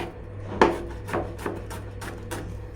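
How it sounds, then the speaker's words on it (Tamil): Onion being cut into small pieces for a Bombay-style papdi chaat, heard as a series of about six crisp knife chops on a board at a steady, slightly uneven rhythm, close and moderately loud over a low background hum. "இந்த மாதிரி வெங்காயத்தை வந்துட்டு குட்டி குட்டியாக கட் பண்ணி போட்டு பாருங்கள்."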